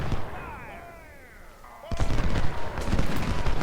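Cannon and rifle fire from a Civil War battle in Ultimate General: Civil War, with 6-pounder guns in action; a quiet spell with faint tones gives way to dense, rumbling volleys of booms and shots that continue to the end.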